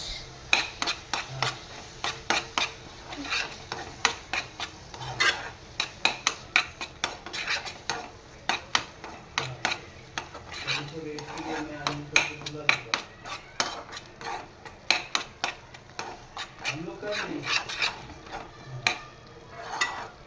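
A spoon scrapes and clanks against a pan as an onion and tomato masala with red chili powder is stirred for pav bhaji, with rapid irregular metallic knocks over a soft sizzle.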